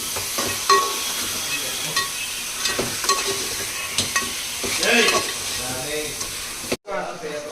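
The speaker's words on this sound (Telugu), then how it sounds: "ఇది మొత్తం ఒకసారి బాగా కలుపుకోవాలి." Crab curry masala is stirred in a hot pan, with repeated spoon scrapes and knocks over a continuous sizzle, fairly close and moderately loud.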